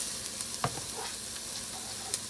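Jalapeño and garlic sizzle in a pot for white chicken chili, a close, even hiss broken by a few quick stirring clinks and scrapes, with no voices.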